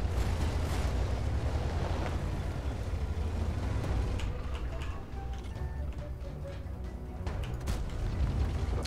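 Tank cannon shots in World of Tanks, fired from a Soviet heavy tank such as the KV-4, ST-I or IS-4, heard as a couple of sharp reports over a constant heavy engine rumble and battlefield din.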